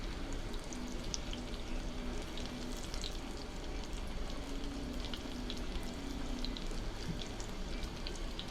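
Thin pieces of pork tenderloin fry in about half an inch of canola oil, giving a continuous close sizzle and crackle with scattered pops.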